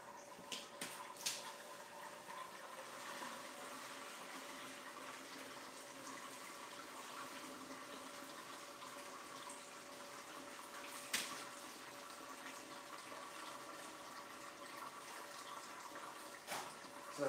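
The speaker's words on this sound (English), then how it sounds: "So that sound you hear, there's water actually falling into the trap." Water falls steadily into a trap outdoors, a continuous low splashing trickle that stays faint and even throughout, with a few brief louder splashes and no voices.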